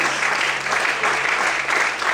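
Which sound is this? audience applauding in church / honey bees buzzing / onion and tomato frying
audience applauding in church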